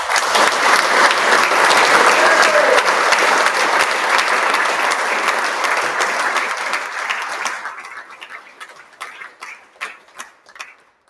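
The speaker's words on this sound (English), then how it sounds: "So if you please just join me in saying a big thank you and round of applause for Billy Cairns." Audience applause at the opening ceremony of the Cairns Cup, a loud, dense round of clapping that holds steady, then thins out into a few scattered, separate claps toward the end.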